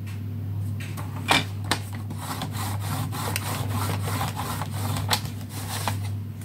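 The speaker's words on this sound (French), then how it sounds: "À 4 cm, on vient marquer le pli." Paper is creased into folds for an Easter chocolate box, giving close, dry rubbing and scraping strokes with a few sharper taps over a steady low hum.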